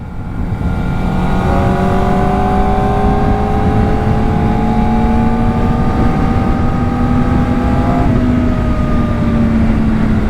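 A 2024 Kawasaki Ninja ZX-4R motorcycle is ridden hard, its engine pitch climbing steadily under acceleration with a brief shift near the end, a loud continuous drone with wind roar throughout and no talk.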